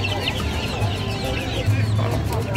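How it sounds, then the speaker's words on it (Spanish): Laying pullets and ducks at a livestock market, clucking softly and repeatedly in a steady background murmur of poultry, with no talk over them. "Y las pollitas ponedoras y los patos."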